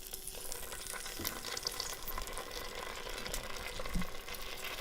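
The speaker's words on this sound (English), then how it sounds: "We're going to take sausages and we are going to start to brown them." Italian sausages browning in olive oil in a Dutch oven over medium heat, a soft steady sizzle and crackle with a few brief clicks, fairly quiet and with no talking.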